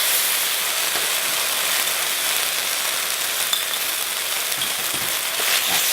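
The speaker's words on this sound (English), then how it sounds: "I'm going to soften that in the wok" Chili jam sizzling as it softens in a hot wok, a loud, continuous bright hiss of frying with faint scraping stirs, no voices.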